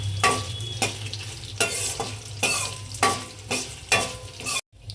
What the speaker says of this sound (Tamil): இப்போ நல்லா வதக்குங்க.